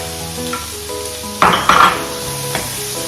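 Chopped ginger and garlic sizzling in a pan while cooking for a Kerala-style coconut fish curry, with a steady frying hiss, a clatter of a utensil stirring against the pan, and brief louder bursts of sizzle.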